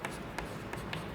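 Writing out a maths solution about a hemisphere's diameter, a few short scratchy strokes up close over a soft steady background, with no voices.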